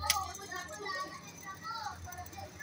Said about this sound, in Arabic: مشكلة صوت الأولاد اللي في الشارع.